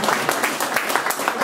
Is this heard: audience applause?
yes